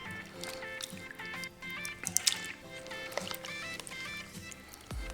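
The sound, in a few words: shrimp added into broth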